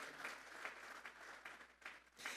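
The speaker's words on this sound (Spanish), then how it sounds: "Denle esa ofrenda de palmas a Dios en esta hora." A church congregation claps in a faint, continuous round of applause that swells in waves, heard from a distance.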